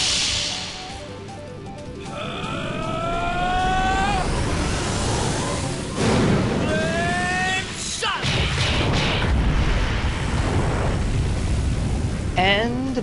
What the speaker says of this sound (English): And bam! Flame Shot.